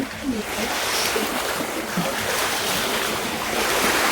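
Strong sea waves at Lumut–Sitiawan on the Malaysian coast: continuous loud rushing surf with wind buffeting the microphone, steady throughout.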